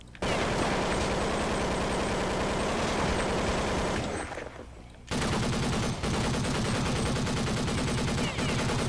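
Gunfire in the Roblox game Jailbreak rattles as dense, rapid bursts that fill the clip, broken by a short lull midway before the shooting resumes just as loud.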